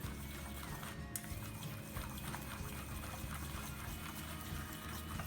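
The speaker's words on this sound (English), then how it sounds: "add some olive oil and just whisk it well" Olive oil is whisked into a spicy apple adobo chili sauce, producing quick, rhythmic clicking taps of the whisk against the bowl over a steady bed of background music.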